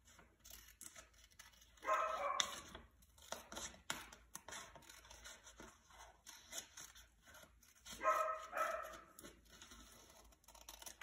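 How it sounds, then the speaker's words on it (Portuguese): A small puppy yaps in two short, fairly faint bursts indoors, surrounded by soft rustling and scissor-like snipping as paper is cut. "a prof tá levando o cachorrinho para ir ver o sol"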